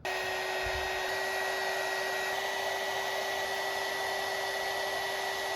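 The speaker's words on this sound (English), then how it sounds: "I'm gonna use this little heat gun to shrink up this heat shrink tube." Small heat gun shrinking heat shrink tubing during a fuse block wiring job for an FJ Cruiser, a steady loud blowing whir with a high whine held throughout.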